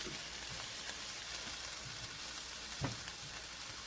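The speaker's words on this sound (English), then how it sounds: "Fry these bad boys on up." Shrimp fried rice frying in a pan gives a steady, even sizzle that holds at one level throughout, with a few soft stir scrapes and no talking.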